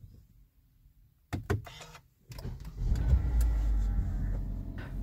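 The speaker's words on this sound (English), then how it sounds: "The car starts just fine with the push start button" A Kia Sportage engine is started with the push start button: a few mechanical clicks and relay clunks, then the starter cranks and the engine catches into a steady low idle, heard close up inside the car.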